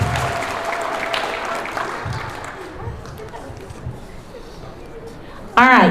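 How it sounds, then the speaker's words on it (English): Outdoor crowd applause for a cardboard boat race winner at a school event, steady clapping spread across the clip with talk mixed in, ending in a brief louder burst near the close. "give him another round of applause, please, and his whole team"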